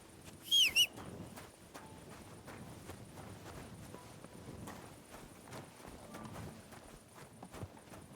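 Soft hoof clip-clops from a horse being walked in the medieval video game Kingdom Come: Deliverance II, faint and steady beneath low ambient noise, with a brief bright chime near the start.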